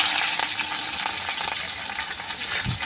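Fenugreek seeds and green chillies frying in a pan, a loud, dense crackling sizzle with occasional stirring scrapes, no voices.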